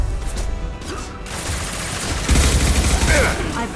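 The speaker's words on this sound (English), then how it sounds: "Firing an impact shot." Impact shot gunfire in Mass Effect, with a loud close burst of rapid shots in the second half over a noisy combat backdrop.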